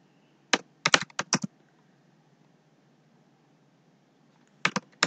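Several crisp computer keyboard keystrokes come in a quick burst of about six taps, then a pause of quiet, then a few more keys clicked near the end while entering a Python upload command.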